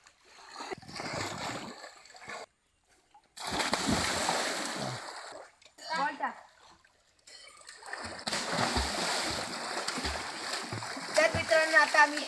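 Two people bathe in a river, producing repeated bursts of splashing and sloshing water that come in uneven surges with brief quiet gaps, fairly close, with voices heard intermittently.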